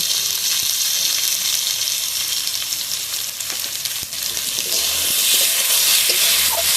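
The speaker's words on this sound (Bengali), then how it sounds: "আলু টমেটা কষে নিয়েছি একদম লাল লাল করে সব ভেজে নিয়ে" Loud, continuous sizzling of potatoes and tomatoes frying with spices in a pan, with occasional scraping and stirring strokes, close and steady throughout.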